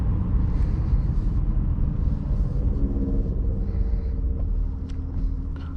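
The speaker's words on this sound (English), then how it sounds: "Can't believe it took the Corvette out in the snow." A Chevrolet C8 Corvette cruises along a snowy highway, giving a steady, loud low rumble of engine and road noise heard from inside the car, with no talking.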